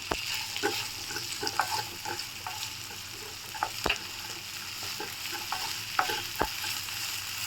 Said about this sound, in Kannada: ಈ ಹಂತಕ್ಕೆ ನಾವು ಬೇಯಿಸಿಟ್ಕೊಂಡಿದ್ವಲ್ಲ ಕ್ಯಾರೆಟು, ಬೀನ್ಸು, ಬಟಾಣಿ, ಇದನ್ನು ನಾನು ಹಾಕ್ಕೊಂಡು ಫ್ರೈ ಮಾಡ್ಕೊತಾ ಇದ್ದೀನಿ